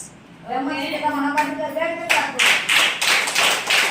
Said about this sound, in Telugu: ఓకే, గట్టిగా క్లాప్స్.